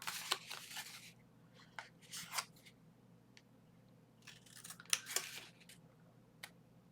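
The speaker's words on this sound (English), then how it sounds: "So I'm going to go ahead and cut on those lines that I folded." Scissors snipping through folded patterned paper for a Halloween mini album, several short crisp cuts in bursts with pauses between, close and fairly quiet over a low steady hum.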